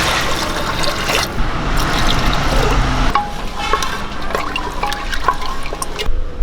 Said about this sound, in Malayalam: കടല വേകാൻ ആവശ്യമായിട്ടുള്ള വെള്ളം കൂടി ഇട്ട് കൊടുക്കും